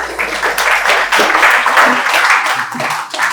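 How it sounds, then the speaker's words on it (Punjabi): Students in a Bathinda coaching institute classroom applaud for a classmate, a dense burst of clapping that runs steadily throughout, with voices mixed in underneath. "ਤਾੜੀਆਂ ਲਾਓ ਭਰਾ ਲਈ"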